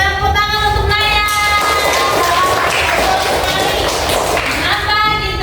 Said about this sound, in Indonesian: Oke, tepuk tangan untuk Naya.